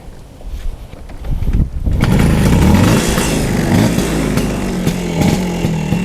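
A 1974 Vespa Sprint scooter engine runs close by with a loud, buzzing two-stroke drone. It starts from a rough, quieter idle, then swells into a steady, higher rattling rev that holds to the end.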